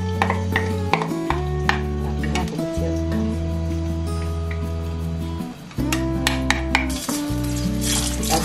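White spice paste hitting hot oil in a pan while cooking Jakarta-style chicken porridge, a continuous loud sizzle with stirring scrapes, under steady background music.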